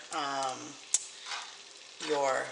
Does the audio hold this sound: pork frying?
yes